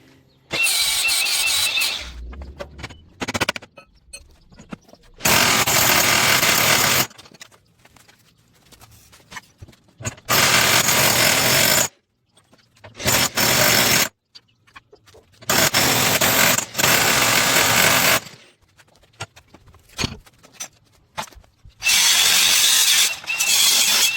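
A welder lays beads on 1.75-inch DOM steel tube on a wrecked chassis, in repeated bursts of crackling buzz a few seconds long, separated by quiet pauses.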